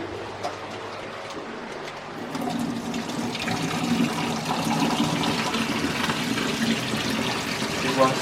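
Water pours and splashes steadily out of a newly arrived fish's transport bag, a continuous close gush that swells after a quieter start, with a person talking over it.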